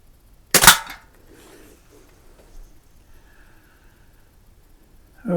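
A Crosman 140 .22 caliber pellet rifle fires once at a can seven yards away, a single sharp, close crack followed by near silence with faint background sounds.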